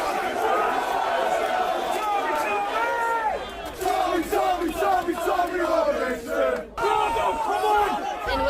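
A crowd shouting at a heated street rally, with many raised voices, bellowed cries and yelling overlapping in a loud, continuous outdoor roar that dips briefly near the end.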